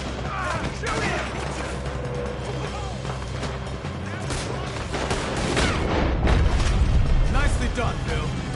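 Video game gunfire rattles in dense bursts under layered game music and effects, with in-game voices talking over the loud, continuous fight.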